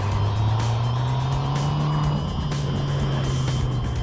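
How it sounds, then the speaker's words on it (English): A 2021 McLaren GT's mid-mounted V8 hums steadily from behind while driving, its low engine drone rising slightly in pitch, with a faint high turbo whistle riding above the road noise. "The V8 is behind you. It sounds magnificent. You can hear the whistle of the turbos."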